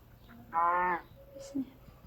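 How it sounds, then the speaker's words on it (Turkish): A single cow lets out a short, full moo close by, then a brief quieter grunt in an otherwise calm setting. "İnek inek inek mi?"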